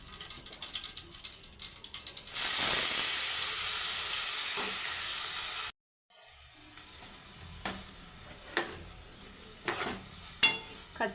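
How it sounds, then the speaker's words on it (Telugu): A ground green chili and onion paste drops into a hot pan for egg curry, giving a loud, sharp sizzle that runs for a few seconds, then falls to a quieter crackle with light clinks. "పచ్చగా మిక్సీ పట్టిన పచ్చిమిర్చి ఉల్లిపాయలు వేసానండి ఫ్రై అవ్వాలి"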